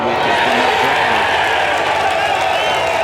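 A U.S. Open golf gallery roars and cheers for Jim Furyk, a loud, sustained wall of crowd noise with clapping mixed in, steady throughout.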